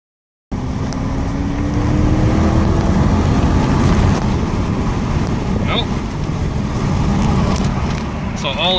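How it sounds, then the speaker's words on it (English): Infiniti M-series sedan engine climbing steadily in revs under full throttle before an automatic transmission upshift, heard from inside the cabin as a rising drone over road and wind noise. "This thing is gonna upshift at a really, really high engine speed."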